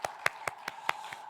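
A church congregation claps in praise during a Sunday service, a short run of about six evenly spaced, crisp handclaps, faint and somewhat distant, with no talk over them.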